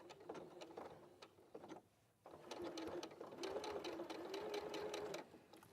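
A sewing machine stitching fabric, a steady quick mechanical patter that runs close and fairly quiet, stops briefly, then starts up again.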